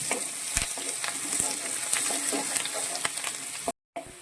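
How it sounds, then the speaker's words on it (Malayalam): Ingredients for a bone curry sauté in a pan, sizzling loudly and steadily up close with scattered stirring clicks, then cutting out for a brief silent gap near the end. "ഇനി നന്നായിട്ട് വഴറ്റിയെടുക്കണം"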